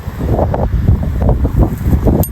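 Wind gusting across an olive field, rough buffeting bursts close to the microphone with rustling, steady throughout and no talk.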